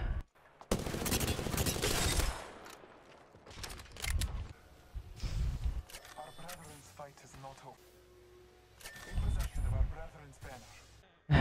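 Select-fire weapon shooting in the battle royale shooter Apex Legends, with several loud bursts of automatic fire and scattered game effects, heard alongside a player talking over in-game action.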